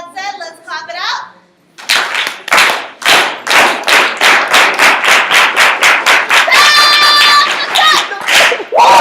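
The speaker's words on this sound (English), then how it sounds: "let's clap it out." An audience at a vice presidential platform event bursts into loud, close applause after a short stretch of speech, with strong rhythmic clapping continuing steadily and a few whoops mixed in.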